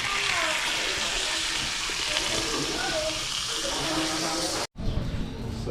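Water runs from a tap in a home kitchen while dinuguan is being cooked, a steady close splashing stream that cuts off abruptly near the end, with a person speaking briefly.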